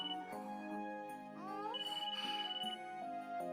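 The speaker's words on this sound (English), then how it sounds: "Your phone's ringing." A mobile phone rings with a melodic, chiming ringtone of bright repeating tones and short rising sweeps, steady and moderately loud for several seconds with no voices.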